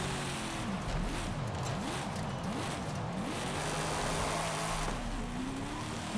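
A race car engine in Forza Horizon revs up and down through repeated gear shifts, its pitch rising and dropping in a sawtooth pattern before settling into a steady high drone, loud and continuous with no talking.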